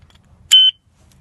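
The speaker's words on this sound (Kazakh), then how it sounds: "сигнализация ойнайды" A single short, shrill electronic beep from the built-in alarm of a Chinese padlock, sounding once, close and loud, against near silence.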